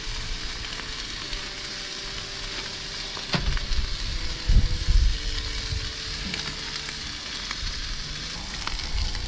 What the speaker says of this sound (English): Oh, you hear it sizzling.